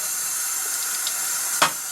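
Cool tap water runs steadily, rinsing parts of a Remington 31 12-gauge shotgun during restoration, a constant bright hiss with a brief splash or clatter near the end.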